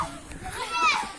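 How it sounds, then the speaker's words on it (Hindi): Children play and shout nearby outdoors during a day out, their short excited cries rising over a busy background, with kids' voices blending in the brief moment. "अरे यहाँ भी बच्चे खेल रहे हैं"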